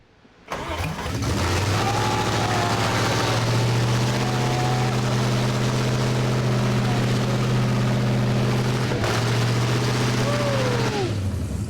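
A classic Ford Bronco engine cranks and catches, then settles into a loud, steady rumbling idle close by that runs without a break, with a few faint voices in the background.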